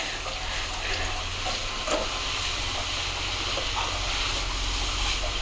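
Carrots sizzle steadily in hot ghee for carrot halwa, a continuous hissing fry with no talk heard.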